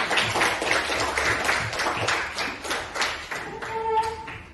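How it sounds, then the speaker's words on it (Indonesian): Classroom of pupils clapping together after roll call, a dense run of fast hand claps close by that tapers off near the end, where a faint tonal hum appears. "Tepuk tangan dulu untuk kita semua."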